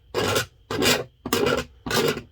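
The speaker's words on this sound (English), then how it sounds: "I'm just gonna take my little knife and I'm gonna scrape it" A small knife scrapes the edge of a cracked ABS shower pan in four loud, close, evenly spaced rasping strokes, each about half a second long.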